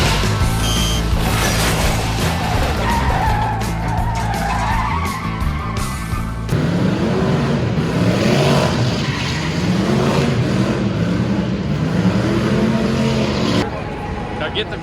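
A car spins its tires at a car show in Tulsa, Oklahoma, a loud sustained roar of engine revving and tire squeal with shifting pitch over crowd noise.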